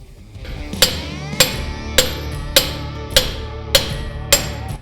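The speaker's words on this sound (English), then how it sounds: "this will be the last time I have to hammer this back in here" Seven sharp metallic hammer strikes drive a bearing race into place at a steady, even rhythm, each ringing briefly, close and clear with no talking.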